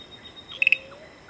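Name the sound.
frogs calling at night in Periyar forest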